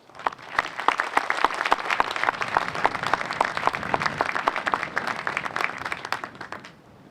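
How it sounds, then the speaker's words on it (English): Audience applause at a U.S. Army Garrison Stuttgart change of command ceremony, with sustained, crisp clapping from a crowd that carries strongly for nearly seven seconds before stopping abruptly. "Let's give both teams a round of applause."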